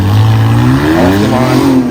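A 2024 Dodge Charger with the Hurricane engine pulls away from a launch line, its exhaust note rising steadily in pitch as it accelerates, loud and close with no talking.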